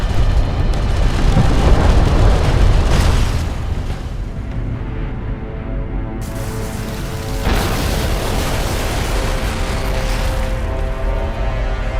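Destroyed Galcian support cruiser exploding in Homeworld: Deserts of Kharak, a loud rumbling boom that rolls and decays over several seconds, followed by a lower sustained battle rumble with a second swell of noise.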